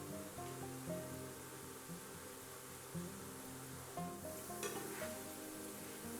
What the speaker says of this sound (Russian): Обжариваем его на сильном огне в достаточном количестве растительного масла, постоянно помешивая.